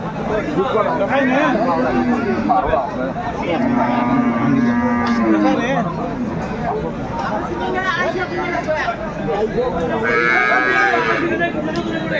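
Improved-breed milk cows and calves at the Aftabganj cattle market in Dinajpur moo in several drawn-out calls, close and loud, amid constant background chatter of people bargaining.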